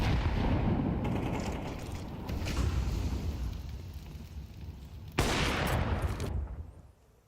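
A single sharp AWP sniper rifle shot from a Counter-Strike esports match cracks out mid-clip, loud and close, over steady in-game ambience and movement noise.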